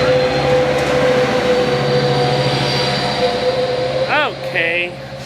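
A train shoved by its locomotive rolls past in Simi Valley with a loud, steady rumble and hum, then metal wheels squeal briefly near the end.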